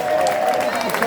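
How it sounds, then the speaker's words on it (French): At a concert in Havré, Belgium, the audience claps in a brief, dense burst of applause, with crowd voices mixed in. "Si vous aimez bien, vous applaudissez."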